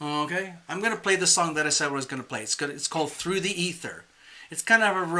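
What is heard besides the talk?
No distinct noise like a dog, phone or traffic.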